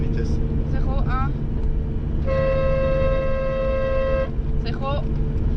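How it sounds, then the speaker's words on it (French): A rally car's horn blares in one steady honk of about two seconds over a constant engine drone, with voices talking before and after it. "je klaxonne"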